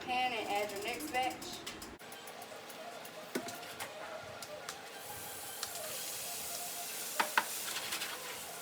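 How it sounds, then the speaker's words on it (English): A batch of vegetables hitting hot oil in a pan, a steady close sizzle that swells and hisses on, with scattered clicks and clinks of a utensil and a voice speaking briefly at the start. "you're gonna add some more oil to your pan and add your next batch"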